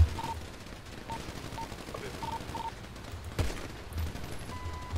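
Gunfire in GTA RP, a faint, distant rattle of scattered shots beneath a low background hum, with a slightly stronger burst near the end.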